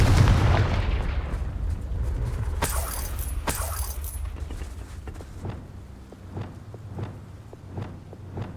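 Confringo, the explosive fire spell in the video game Hogwarts Legacy, lands as a couple of sharp, loud blasts over a low rumble. Lighter rhythmic footsteps and clatter follow as the noise fades.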